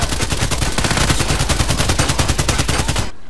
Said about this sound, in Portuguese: Minha pistola é automática mesmo.